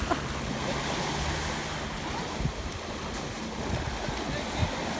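Sea waves wash steadily at a beach with wind blowing across the microphone, a continuous broadband surf wash at moderate level with no clear individual breaks.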